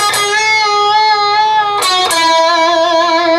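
Sustained guitar note in a solo from a song, bent up and released three times in a steady rhythm, pitch sliding up and back with each bend, played clear and close with no talking.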